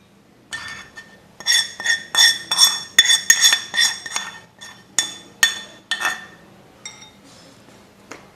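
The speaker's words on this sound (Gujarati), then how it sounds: "ફરી આપણે બધું મિક્સ કરી લઈએ" A spoon stirs raw mango pickle with hot oil in a bowl, giving bright metallic clinks and scrapes in irregular bursts. The clinking is close and sharp, with brief pauses between strokes.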